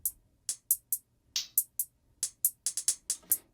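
Pitched-down hi-hat samples in Logic Pro X tick in a sparse, irregular beat pattern, with crisp, short hits and no other sound.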